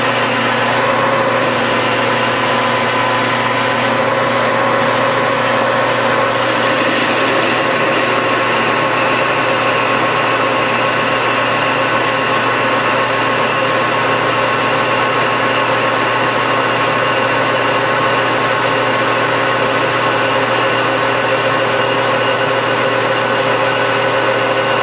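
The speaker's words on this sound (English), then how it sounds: "grab on this in the lathe right now, and we're going to machine this back side" A lathe machines the back side of an idler gear for a three-speed transmission, giving a steady, loud mechanical hum with constant tonal whine that runs unbroken the whole time, with no talk.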